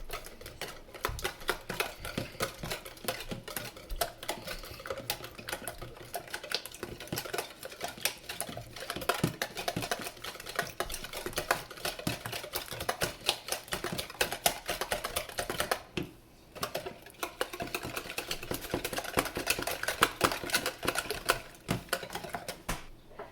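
Two eggs whisked briskly in a bowl for coleslaw-style crispy fried chicken batter at home, a dense, continuous rapid clatter of whisk against bowl with a brief pause near the middle.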